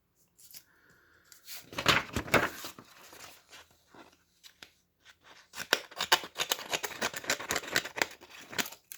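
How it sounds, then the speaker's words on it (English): Small scissors on a cheap knockoff Swiss Army-style souvenir pocket knife snip through material in irregular clusters of crisp, close clicks and cuts, with short pauses between bursts. "The scissors, they're always a bugbear on these Swiss Army knife knockoffs, but they actually do cut"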